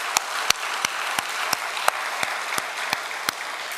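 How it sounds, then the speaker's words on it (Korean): A church congregation at a New Year Sunday worship service claps together, with sharp, evenly spaced claps repeating about three times a second over a wash of scattered applause. "힘차게 박수를 한번 치겠습니다"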